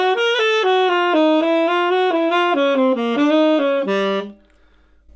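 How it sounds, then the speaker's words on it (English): A saxophone plays a quick chromatic approach line over a dominant seventh in a minor key, a steady run of legato notes with a lower sustained note near the end before it stops and fades into quiet. "on the saxophone that sounds like this"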